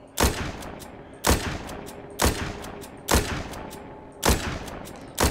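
Gunfire from shooting zombies in the game The Walking Zombie 2 cracks out in five loud, evenly spaced shots about a second apart, with no talk over them.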